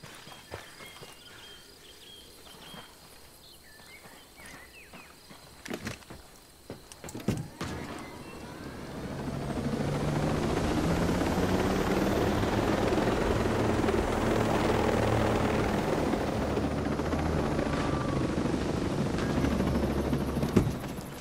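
Helicopter in the video game Ghost Recon Breakpoint, starting with faint clicks and mechanical sounds before a loud, steady rotor and engine roar rises and holds near the listener.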